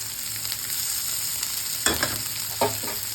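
Finely chopped onions fry in a pan for a Rayalaseema-style egg curry, giving a constant sizzle. Two distinct scraping stirs stand out near the end. No voices.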